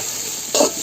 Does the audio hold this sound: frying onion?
yes